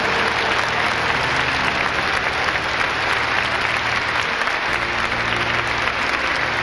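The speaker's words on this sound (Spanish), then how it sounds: "Dale un aplauso al Señor con todo su corazón." A church congregation applauds during a Spanish-language service, a dense steady wash of clapping heard throughout with low background hum underneath.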